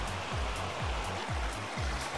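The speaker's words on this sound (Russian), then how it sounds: "Новолисай – река горная, своенравная, и даже сейчас, сухой август, периодически заливает нам дорогу." The Navolisai, a mountain river in Uzbekistan, rushes in a loud, continuous broadband roar. Soft low thumps recur at a regular pace beneath the flow.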